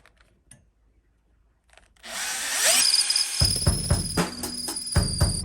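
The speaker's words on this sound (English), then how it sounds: "So I tend to start my first hole 3/16 drill bit." A power drill with a 3/16 drill bit bores a hole while fenders are fitted to a motorized bike, starting after two seconds of near silence with a rising whine, then grinding and biting loudly with uneven bursts up close.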